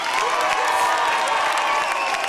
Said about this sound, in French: je vous demande d'applaudir Grégoire.